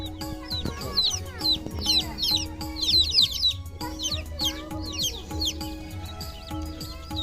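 Small chicks cluck and chirp repeatedly close by, a busy overlapping flock sound with bright high calls throughout.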